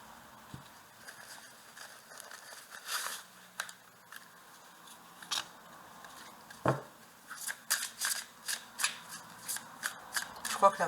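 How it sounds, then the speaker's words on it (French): Playing cards handled and laid down on a table: soft papery rustles and light taps, sparse at first and then a quicker cluster of snaps near the end, close by, with a voice heard in places. "Et je vais recouvrir ces deux cartes."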